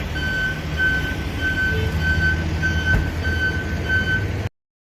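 Tow truck backing up with a loud, evenly spaced reversing beeper repeating over a steady diesel idle, cutting off abruptly near the end.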